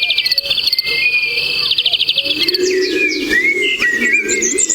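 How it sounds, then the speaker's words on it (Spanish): Yellow-legged gulls call from a distance on Menorca, their cries rising over a dense, continuous bed of chirping insects and other bird song. "suenan las gaviotas patiamarillas un poco en la distancia"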